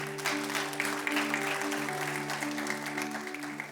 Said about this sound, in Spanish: Denles aplauso fuerte a Cristo